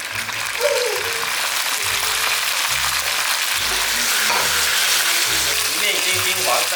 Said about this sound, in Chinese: 来把鱼煎一下。